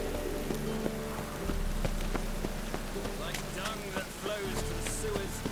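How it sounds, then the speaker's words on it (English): Rain falls in The Witcher 3 video game, a dense steady hiss of drops on surfaces with scattered sharper ticks and a low rumble, loud and continuous throughout. "Looks like rain."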